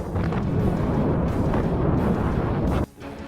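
Russian Kinzhal missile explosion: a loud, sustained roaring rumble of blast that fills the clip, then cuts off abruptly near the end, with no talk.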